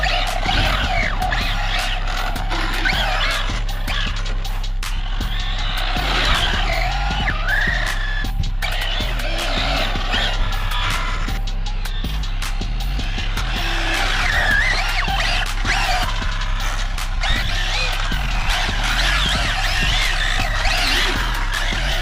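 An Arrma Felony 6s RC car fitted with 8s Kraton electronics runs on a road, its electric motor whining up and down in repeated bursts alongside tire scrubbing and skidding, loud and close throughout.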